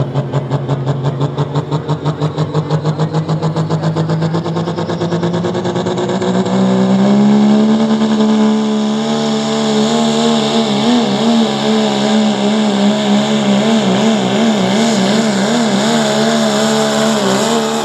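A 1997 Dodge Ram pulling truck called the Patriot at an Ohio truck and tractor pull roars loudly, its engine note climbing steadily before settling into a sustained, wavering high-rev howl up close.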